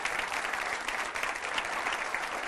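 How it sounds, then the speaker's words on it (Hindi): Studio audience on a Hindi television political debate show bursts into dense, steady applause to welcome a guest, loud and continuous throughout with no speech over it. "चलिए तालियों से स्वागत कर दीजिए"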